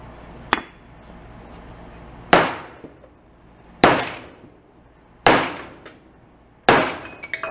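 A gun on a workbench struck with a piece of wood, five loud, sharp cracks spaced roughly one and a half seconds apart, each ringing briefly before fading, with no talking.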